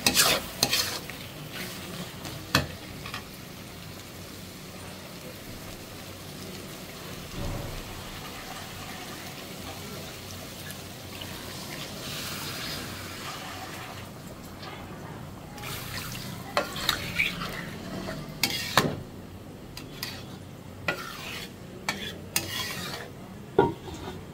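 Beef liver bhuna cooks in a pan with soft sizzling under repeated scraping and stirring of a utensil against metal, and broth is added. Sharper clattering strokes come near the end.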